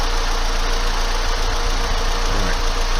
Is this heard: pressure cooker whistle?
no